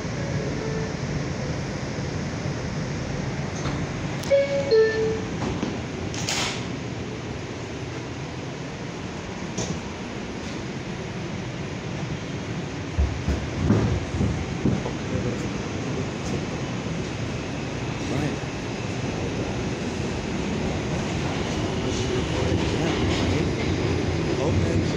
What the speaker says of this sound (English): This is a Manhattan-bound 4 express train.